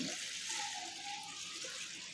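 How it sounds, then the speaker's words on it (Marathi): Steady water pouring into a bowl of lentils with a broad, continuous rushing sound, close by and fairly even throughout, with no talking. "याच्यामध्ये मी भरपूर पाणी ओतणार आहे"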